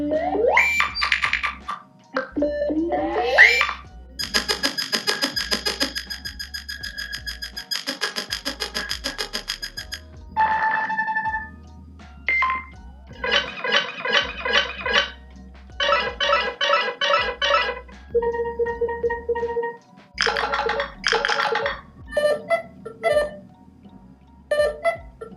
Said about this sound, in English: So you do have 10 new ringtones this year, in addition to the 10 original ones that are still on this.